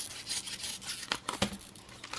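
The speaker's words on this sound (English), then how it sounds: "Let's just cut this open along" Miniature keychain scissors snip through packaging in a few short close cuts, crisp snips among soft rustling and crinkling of the material, with no voices.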